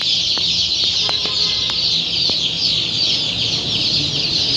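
Day-old chicks and ducklings, including Tiger and broiler chicks and Khaki Campbell ducklings, fill a farm shop with dense, continuous high chirping and peeping, loud and close, with occasional sharper clucks and calls over it.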